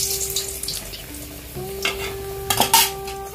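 Singaras (samosas) fry in a hot pan with steady sizzling, broken by a few sharper scrapes and utensil clinks near the end, with a faint background hum.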